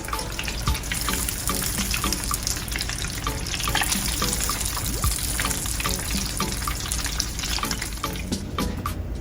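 Hot Cheetos boudin chicken balls deep fry two at a time in oil, a dense, loud bubbling crackle that carries on steadily throughout with no talking.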